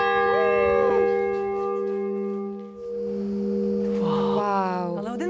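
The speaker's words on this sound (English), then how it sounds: "This is one cool bell." A church bell ringing in Asolo, Italy, in the hills near the Alps, with a loud, sustained tone that hangs and decays over several seconds, close and clear.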